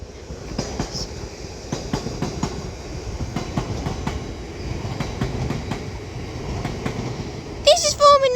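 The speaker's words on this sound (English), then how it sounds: "1512 London North Western Railway service to Liverpool Lime Street from Birmingham New Street, which is just passing through now, and it is a 350/2" A London Northwestern Railway Class 350/2 electric multiple unit passes through Edge Hill on the Liverpool line, wheels clicking rhythmically over rail joints in a steady rumble, with a brief squeal near the end.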